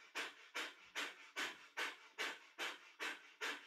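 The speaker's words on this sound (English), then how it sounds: "a breath of fire, nice and strong breath of fire, which is our panting breath, but through the nose" Breath of fire in a Kundalini yoga session: forceful, rapid panting breaths through the nose, eight sharp even exhales in a steady rhythm, close and alone.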